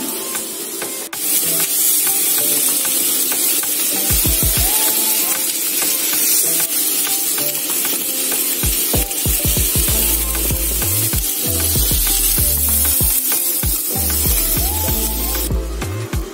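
Grilled meat steaks sizzling, a loud continuous spraying hiss throughout with rhythmic low thumping music underneath.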